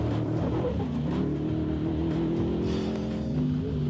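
A powerful off-road trophy truck engine roars steadily at a race, rumbling and revving in the distance with a constant, gritty drone and no speech.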